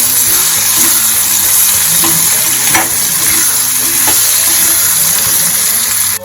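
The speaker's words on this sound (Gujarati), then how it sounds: "કંટોલા એડ કરીશું મિક્સ કરી લેશું" Spiny gourd (kantola) frying in a pan with asafoetida and spice powder, stirred now and then, giving a steady, close, loud sizzle with a few brief scraping clicks throughout.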